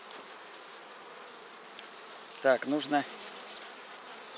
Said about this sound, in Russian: вот пчелки по этому маточнику.